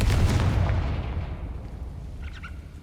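A Confringo fire-blast spell in the video game Hogwarts Legacy on PS5 erupts as a heavy, booming explosion that rumbles loudly and then slowly fades, with a faint crackle near the end and no talking.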